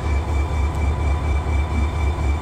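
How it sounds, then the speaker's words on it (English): A Norfolk Southern freight train hauling tank cars rolls past, giving a steady, loud low rumble with a regular rhythmic thump of wheels over rail joints and a faint high squeal throughout. "I don't know how long this train is with these particular tankers."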